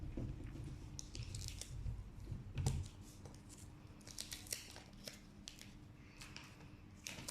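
Cardboard and plastic handling while a 2020 iPhone SE box is opened, with soft crinkles, scrapes and small taps scattered over several seconds, close and fairly quiet, with no talking.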